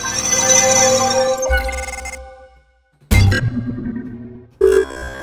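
Glitchy, distorted UI notification tones from a glitch sound-effect preset, a sustained buzzing tone followed by short stuttering digital bursts separated by brief silences.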